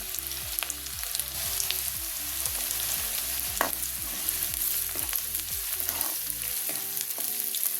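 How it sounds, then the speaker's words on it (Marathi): Thinly sliced onions sauté in hot oil with a constant sizzle, punctuated by rhythmic scraping and tapping of a spatula against the pan, close and steady throughout. "उभे पातळ चिरून आपल्याला 3 कांदे घालायचे त्यामध्ये। ते तेलावर आपल्याला छान परतून घ्यायचे।"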